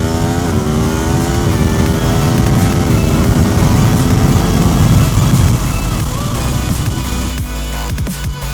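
An Aprilia RSV4 sportbike at full throttle lapping Chuckwalla Valley Raceway in Desert Center, California, its engine howling loud and close with rising pitch through the gears, then easing off toward the end.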